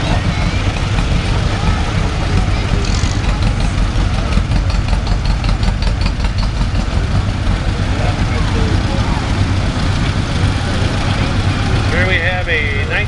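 A 1955 Ford 860 tractor runs through a parade with a steady mid-low engine rumble close by, heard beneath continuous announcer talk over the crowd.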